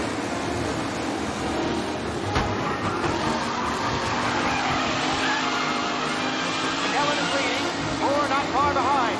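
Race cars in Mafia Definitive Edition roar steadily with engine noise throughout, tires squealing and skidding in rising chirps near the end, a sharp impact around two seconds in, loud and continuous.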